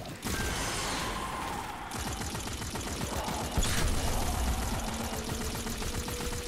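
Rapid automatic weapon fire from the Centrifuge perk in Destiny 2 rattles in a dense, fast stream of shots with mechanical clacks, joined by a louder burst of explosion near the middle, all game sound without talk.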